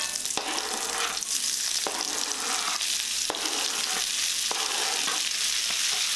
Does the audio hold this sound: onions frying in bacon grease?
yes